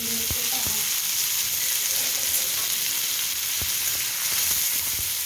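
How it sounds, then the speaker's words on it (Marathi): Peanuts roasting in a little oil in a pan give a steady, dense sizzle throughout, with a few sharp clinks and scrapes as they are stirred, close and alone. "थोडंसं तेल टाकून भाजून घ्यायचे चांगले खमंग असे भाजायचे"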